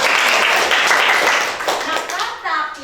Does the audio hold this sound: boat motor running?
no